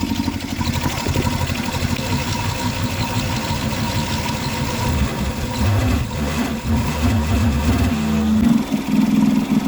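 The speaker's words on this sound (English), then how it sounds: "I just keep the machine on half revs" A cherry picker's mid-pitched engine runs steadily at half revs, a constant loud drone with slight surges in pitch, no talking.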